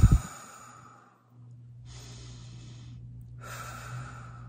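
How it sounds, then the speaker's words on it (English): Two deep breaths, each a long, soft exhale separated by a pause, sound close and quiet over a faint steady hum, with no talking. "Okay, take two deep breaths."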